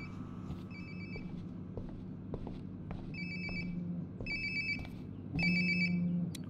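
A phone ringtone chirps in Life is Strange: Before the Storm, three short bursts repeating nearby and growing louder over a low ambient game hum.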